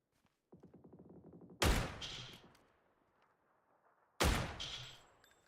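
Sniper gunfire in the battle royale game PUBG: two loud, sharp rifle cracks about two and a half seconds apart. Each rings out into a long decaying echo, and a softer rapid rattle comes before the first shot.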